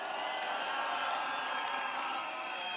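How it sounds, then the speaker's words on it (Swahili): A political rally crowd in Kenya cheers, whoops and applauds for Martha, a dense, steady roar of voices and clapping that holds loud throughout. "Mpigie makofi tena."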